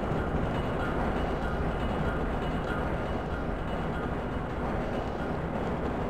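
A moving tram in the video game Half-Life Sven Co-op makes a steady, dense rumbling roar that holds at an even loudness for several seconds, with no talking.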